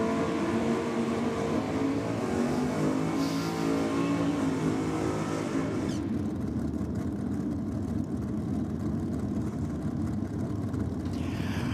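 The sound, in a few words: drag racing car engine, nitrous-assisted Holden HX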